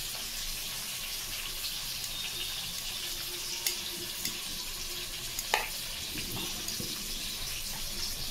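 Chicken frying on a low flame in a pan, stirred now and then: a steady soft sizzle throughout with a few faint scraping knocks from the stirring.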